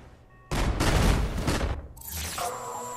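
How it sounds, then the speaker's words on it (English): Explosions from Marvel's Avengers video game: a sudden loud roaring blast sequence of rumbling booms and crackling bursts lasting over a second, then a sharper bright burst of debris-like crackle, with no talk. "And things are still exploding."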